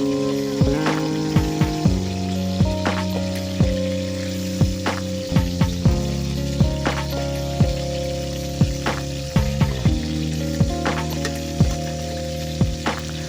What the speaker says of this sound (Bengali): এখন এটা উল্টে আর এক পাশ ভেজে নেব।